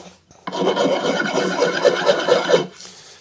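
Sanding varnish off a wooden axe handle gives one long, loud, close scraping rub lasting a few seconds, alone and with no voices.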